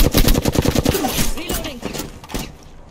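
Rapid automatic gunfire from an Apex Legends firefight, a dense burst of close shots that thins into scattered, more distant pops, with a brief game voice line mixed in.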